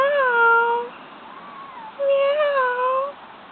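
A young kitten meows twice outdoors on a sunny day, two clear, drawn-out cries close by with a short gap between them.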